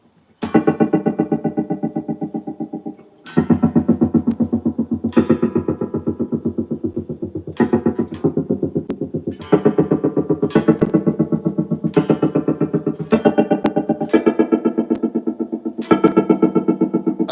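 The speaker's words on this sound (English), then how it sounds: "they have the preset called the helicopter chop." An electric guitar runs through a pedal's helicopter chop preset, each loud strummed chord pulsing in fast, even choppy beats, with new chords struck every second or two.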